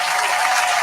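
Steady applause-like hand clapping fills the short moment, dense and continuous at an even level with no speech over it.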